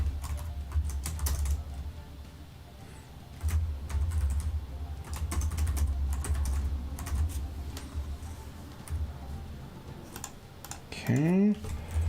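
Computer keyboard typing, a near run of rapid uneven key clicks and taps continuing for several seconds, with a low background hum and a brief rising tone near the end.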